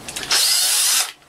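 A power drill spins a manual coffee grinder in one short, loud, steady whirring burst of about a second that starts and stops abruptly, with nothing else heard.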